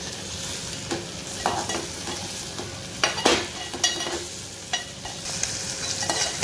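A pan of vegetable curry made with kantola, the monsoon wild vegetable, is stirred in Agri style. A spoon scrapes and knocks against the pan in irregular strokes over a steady soft sizzle, close up, with no voices.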